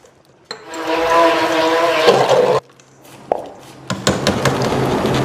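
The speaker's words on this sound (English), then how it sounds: "now for the final step, mixing it all together with 200 grams of precious desert date oil" Soap mixture being blended with desert date oil: a few seconds of loud, whirring, churning liquid that cuts off abruptly, then scattered clinks and sloshing taps nearby.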